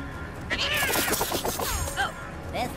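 Cat meowing in the South Park: The Fractured But Whole video game, several short whiny mews in quick succession layered over busy game sounds and effects.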